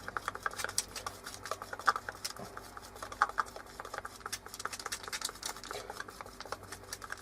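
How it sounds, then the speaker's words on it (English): Hardener stirred into resin in a small container, a quiet, irregular run of scraping and tapping strokes, close and soft, repeating without a steady beat. "put a dab of hardener in there, that's about right. Just a squeeze, and then mix it up well"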